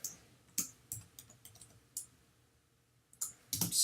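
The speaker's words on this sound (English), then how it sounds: "Okay, so I'm going to click in here." Mouse clicks in a web page builder editor, a handful of sharp separate clicks spread over a few seconds with quiet gaps between them, ending in a louder burst of close clicking.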